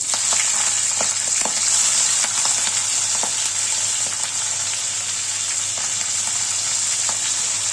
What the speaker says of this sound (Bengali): তেল গরম হলে আমি মাছগুলোকে ভেজে নেব